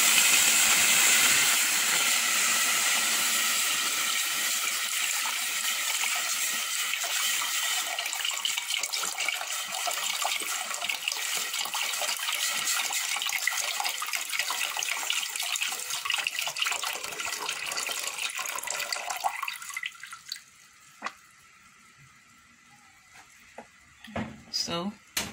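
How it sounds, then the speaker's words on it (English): Water pours in a strong continuous splashing stream while beetroot zobo drink is being made with ginger and pineapple drink, loud and close, then cuts off near the end as someone speaks. "let's go ahead and add some water."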